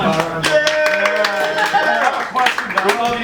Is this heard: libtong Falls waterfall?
no